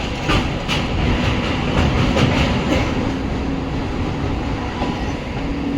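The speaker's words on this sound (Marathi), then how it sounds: "अजून ट्रेन चालले." A Mumbai local train running near Masjid Bunder station, heard from inside as a loud, continuous rumble with rhythmic clickety-clack of wheels over the rail joints.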